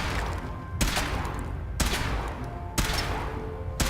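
Heavy ship-mounted guns fire in the modded Fallout 4 video game, four booming blasts spaced about a second apart, each followed by a long rumbling decay under a steady low drone.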